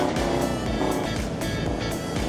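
Simulated truck roaring off-road in a driving game, engine revving hard with rapid gear-like surges and bumps, loud and close throughout the short burst.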